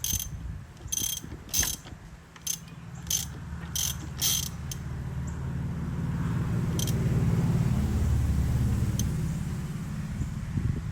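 A ratchet clicks in a quick run of sharp bursts while turning the crankshaft of a non-running Yamaha YFZ450R ATV engine counterclockwise, then a low, steady mechanical rumble follows.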